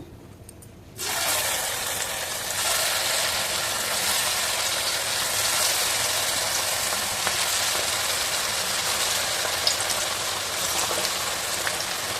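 Chana dal flour snack dough dropped into hot oil, bursting into a loud, dense sizzle after a brief quiet start and frying steadily without pause until the end.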